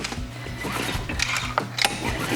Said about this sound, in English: we want to take the recoil and we're going to give it a pull